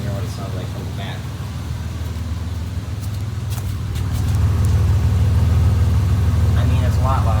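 A 1999 Ford Explorer Sport 4.0L SOHC V6 with a cold air intake idles, heard from the back, with a steady, deep rumble that swells louder about halfway through and holds there.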